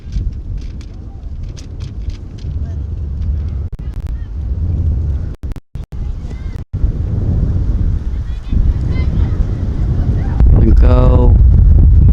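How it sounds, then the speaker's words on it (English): Heavy wind buffeting the microphone at an outdoor high school sports game, with a constant low rumble and roar, while distant voices and shouts come through faintly underneath. "Very windy here."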